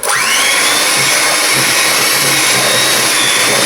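An electric mixer blending condensed milk with powdered milk for a Filipino chiffon cheesecake, a loud steady motor whir running without pause, close by.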